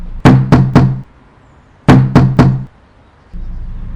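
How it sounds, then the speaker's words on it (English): Three slow, heavy knocks on a front door, then a pause and another set of three, each blow deep and resonant with a short boomy decay, loud and close in a quiet apartment. "3 slow, deliberate, heavy knocks."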